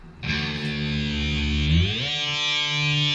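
A loud, heavily distorted electric guitar rings out, its pitch gliding upward an octave via a Whammy pedal partway through to a higher, thinner sustained tone.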